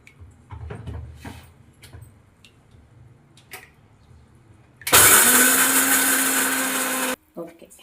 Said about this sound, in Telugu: మొత్తం మిక్సీ చేసుకోవాలి.